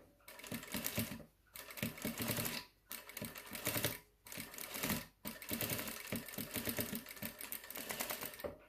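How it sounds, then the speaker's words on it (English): A sewing machine runs a stay stitch across fabric pleats in several close, steady bursts of rapid needle chatter separated by brief stops, with no talking. "We're gonna do a stay stitch."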